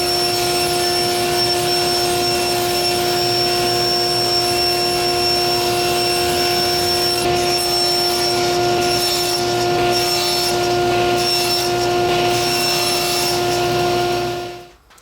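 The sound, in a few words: saw cutting 1/2-inch plywood into pieces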